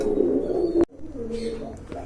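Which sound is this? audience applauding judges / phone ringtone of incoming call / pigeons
pigeons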